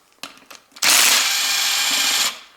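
Oil pump bolts on a 2005 to 2012 BMW E90 320i loosened with a T50 Torx tool: a few soft clicks, then a loud, close power-tool whir lasting about a second and a half before cutting off, no talking.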